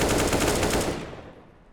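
An AK rifle fires a rapid burst in a CS:GO match at a LAN event, loud sharp automatic shots that stop and fade into a short echoing tail.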